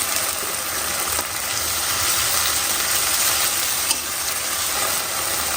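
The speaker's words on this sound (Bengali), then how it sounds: "মশলা দিয়ে যখন তুমি ভেজে নিবা তখন একটা সুন্দর হবে।" Chicken with turmeric, chili powder, cumin, coriander and salt frying in a pan, a steady close hiss and sizzle running the whole time with no talk.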